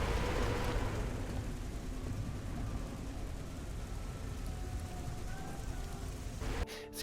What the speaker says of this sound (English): the noise, the eerie rain effects, and there's like a woman screaming in the distance as well